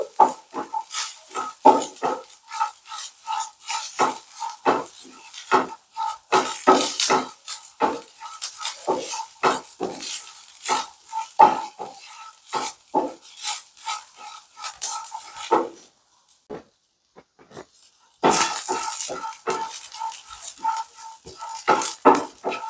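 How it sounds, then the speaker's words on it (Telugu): Mint leaves sizzle and crackle in a pan while being fried for a mutton semi fry, with frequent scraping and stirring clatter against the pan throughout and a short quiet break near the end. "ఇప్పుడు పుదీనా వేసుకుందాం. పుదీనా కూడా లైట్గా ఫ్రై అవ్వాలి."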